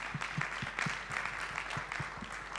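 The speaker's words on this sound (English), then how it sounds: "let's give Ghana a round of applause" A conference audience at a forum on displacement applauds Ghana, giving a steady burst of clapping from many hands with scattered louder claps throughout, no voices over it.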